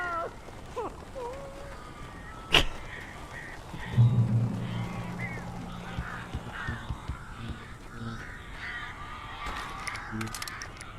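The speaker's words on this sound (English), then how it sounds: "These birds are weird." Crows caw in the video game Alan Wake Remastered, a few harsh calls over an ambient game soundscape with a sharp thud and a low drone, while characters talk intermittently.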